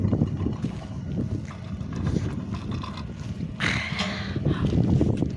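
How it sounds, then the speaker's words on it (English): Strong gusting wind buffets a microphone high in the Norwegian mountains in winter, a loud, continuous low roar with swelling gusts and no voices. "Oh my god, it's so windy."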